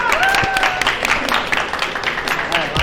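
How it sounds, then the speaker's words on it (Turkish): Applause for the winner of a women's sport-salt tasting competition in Lüleburgaz, a short burst of crowd clapping with voices mixed in. "Evet şimdi kocaman bir alkışla birimizin birincisi Zeynep."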